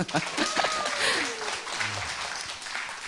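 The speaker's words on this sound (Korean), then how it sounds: "박수 한번 주십시오." An audience at a poetry talk event claps throughout, a steady wash of applause with scattered voices faintly audible underneath.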